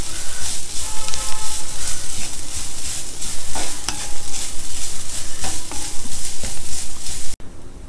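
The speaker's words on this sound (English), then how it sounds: "And lightly stir it for about a minute or so." Fresh grated coconut stirred in a hot pan for South Indian coconut rice, a steady scraping and stirring with a soft sizzle running continuously, close and fairly loud, no talking.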